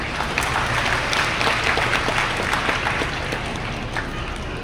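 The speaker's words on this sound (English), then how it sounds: "let us please give a round of applause to all those who helped you along the way toward success" At a university graduation hooding ceremony, a large audience applauds steadily, a thick continuous wash of clapping that holds at an even level throughout.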